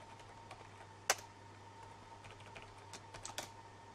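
Quiet, sparse keyboard typing: a few soft clicks and a short flurry of keystrokes, with one sharper tap near the start, against a low steady hum.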